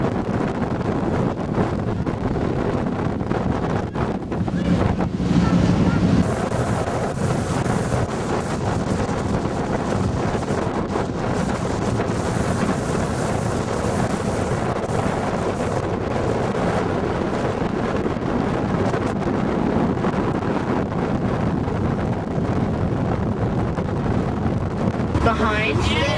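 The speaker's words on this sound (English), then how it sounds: "The wind out here is terrible. That is the wind blowing the cabin." Strong wind buffets a cabin out on the water near the coast, a steady broadband roar and rumble filling the whole stretch without letup.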